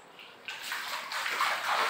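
Flood water sloshing and running inside a village house in Hojai, Assam, a rising rushing wash of water that grows louder and fuller, no speech.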